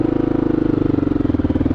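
A 2008 Honda XR650L big single-cylinder motorcycle engine thumps steadily while riding, its rapid regular firing pulses loud and close for just under two seconds with no voices.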